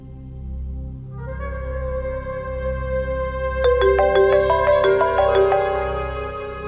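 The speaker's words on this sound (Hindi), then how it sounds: "सरफराज का फोन" A mobile phone rings for an incoming call indoors: a synthesized ringtone melody builds up and then plays a rapid sequence of bright, repeating chime notes, moderately loud and heard without talk.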